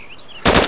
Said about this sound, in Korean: 총소리 났어요. 내가 좀비 쐈어.